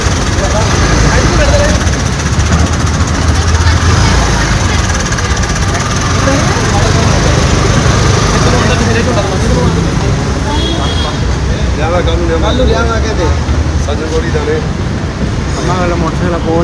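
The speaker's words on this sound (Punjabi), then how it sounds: "ਸਟਾਰਟ ਕੀਤਾ ਵੀ ਮੋਟਰਸਾਈਕਲ ਤੇ ਮੈਂ ਰੇਸ ਦੇ ਦਵਾਂ" A Royal Enfield motorcycle engine runs with a steady, rumbling idle beneath continuous nearby talking.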